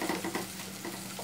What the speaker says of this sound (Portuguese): meu marido, está fritando a mandioca para mim